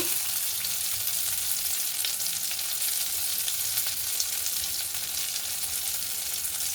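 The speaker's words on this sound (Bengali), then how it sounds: "আস্তে আস্তে করে ভেজে নেব।" Mihidana drops frying in ghee produce a steady, bright sizzle at close range, unbroken and constant in loudness from start to finish with no speech.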